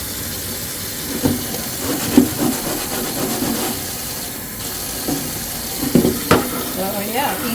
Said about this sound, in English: Okay, let's rinse.